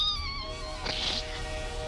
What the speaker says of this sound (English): If you guys get tired of the cat, let me know.